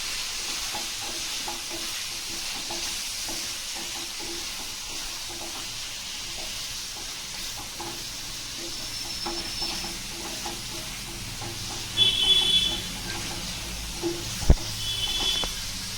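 Chicken with turmeric powder being stirred in a frying pan, a continuous soft sizzle with a steady scraping of the spoon, close and without talk, a few louder clinks near the end.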